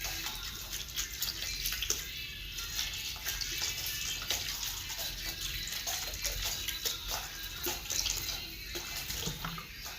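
Water streams steadily into a pot for several seconds, a continuous splashing pour with a faint rumble underneath, no voices.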